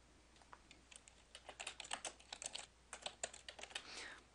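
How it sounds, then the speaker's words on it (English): Quick, uneven keystrokes on a computer keyboard come in short bursts of crisp clicks, close by and fairly quiet, with no talking. "now all we need to do is type our paragraph of journaling"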